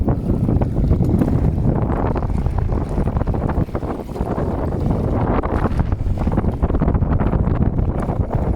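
Strong wind buffeting the microphone in a steady, loud rumble, with strong-current water noise underneath and no voices.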